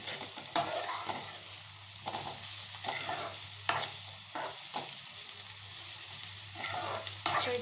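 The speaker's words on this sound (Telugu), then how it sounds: "సో ఈ 3 ఐటమ్స్ ఆయిల్లో లైట్గా ఫ్రై అవ్వాలి" Green chilies, onions and mint frying lightly in oil, a quiet steady sizzle with repeated scraping clicks from stirring at irregular intervals, no voices.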